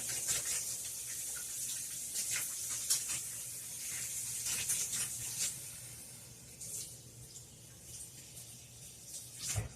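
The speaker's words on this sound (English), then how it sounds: "I'm rinsing my hands real quick" A kitchen faucet runs while hands are rinsed under it during pizza dough prep, a steady hiss of spraying water broken by irregular splashy bursts. No one speaks.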